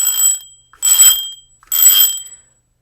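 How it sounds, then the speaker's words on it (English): A bicycle bell rung three times in quick succession, each a bright, loud, sustained metallic ring with short gaps of silence between, clipped and harsh as if overdriving the microphone. "I got a bike bell."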